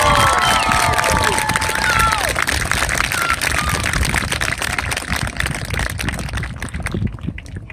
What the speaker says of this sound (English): Let's give Mr. Rupplinger a big round of applause